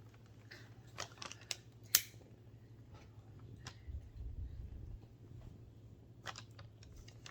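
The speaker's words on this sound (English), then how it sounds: "And cut off the tag ends." Scissors snip the thread tag ends on a hand-stitched leather sheath for pruning shears, giving a few quiet, sharp clicks and one louder snip against a low steady hum.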